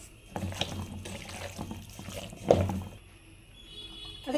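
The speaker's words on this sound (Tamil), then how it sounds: "நான் இப்போ 1 டம்ளர் தண்ணி ஊற்றிக்கிறேன்" Water poured from a tumbler into spicy chicken gravy in a pot, a short splashing pour with faint bubbling and clinks, close and fairly quiet, no talk.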